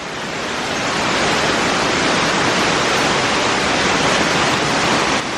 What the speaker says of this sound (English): right here is like an underground river, and it's crazy. The water's just coming over these rocks.